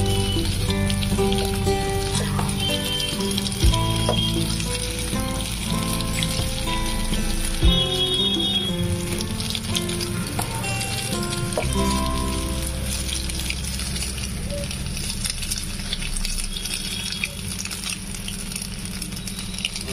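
Egg frying in hot oil in a pan, a continuous crackling sizzle with dense spitting pops holding steady throughout, close up with no talk.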